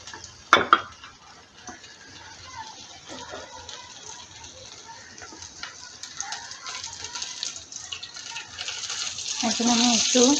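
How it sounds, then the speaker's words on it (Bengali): Chicken pieces dropped one by one into hot oil in a wok, with a sharp clatter at the start, soft bubbling and handling noises, then a sizzle that builds steadily louder toward the end, faint talk underneath. "এখন আমি এগুলো তেলের মধ্যে একটা একটা করে মাংস ছেড়ে দিব।"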